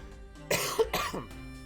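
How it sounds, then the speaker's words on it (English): A quick cough, then a second one close behind, near and fairly loud against a quiet background, with no talking. "Just a quick cough, maybe a couple coughs in succession, and then I'm back to normal."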